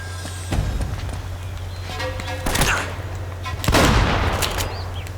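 Shotgun blasts in the video game Uncharted: Drake's Fortune, a few loud booming shots spaced irregularly over several seconds above a steady low hum.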